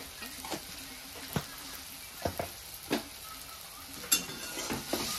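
A spoon stirring a tomato and spice masala with garam masala and coriander powder as it fries in oil, soft sizzling under a series of sharp scrapes and clinks against the pan, close and unhurried, no talking.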